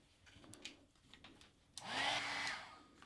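A hair dryer blows on glitter-coated hair, a steady airy whoosh that rises sharply partway through and holds loud for about a second before easing, after quieter faint handling noises.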